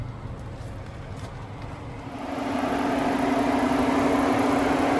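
A 2012 Ford Edge Limited AWD with a 3.5 liter V6 and 130,000 miles running, a steady low engine hum that rises in level partway through and then holds.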